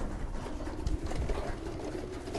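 Young racing pigeons coo in a low, continuous murmur close by, their soft throaty calls overlapping against steady background noise.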